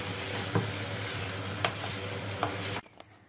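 Chicken lollipops frying in a pan give a steady, dense sizzle with a few soft stirring knocks, close and even, before it cuts off abruptly near the end; no talking.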